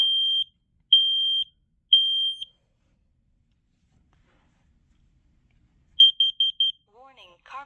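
Smoke alarm being tested sounds three long shrill beeps, falls silent for several seconds, then resumes with a quick run of short beeps before a brief recorded voice message.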